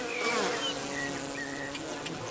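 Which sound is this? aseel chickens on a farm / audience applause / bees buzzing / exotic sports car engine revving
bees buzzing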